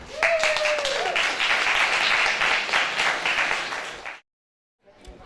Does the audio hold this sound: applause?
yes